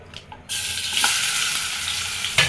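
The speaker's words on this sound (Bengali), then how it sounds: "মাছগুলো ভেজে নেব।" Fish dropped into hot oil in a pan erupts into a loud, steady sizzle after a brief quiet start, with a couple of stirring clatters.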